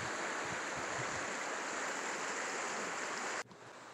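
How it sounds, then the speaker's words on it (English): A river rushes through a rainforest near a campsite as a loud, continuous broadband roar of flowing water. It cuts abruptly to a quieter wash near the end. "It's the whole river in the whole rainforest."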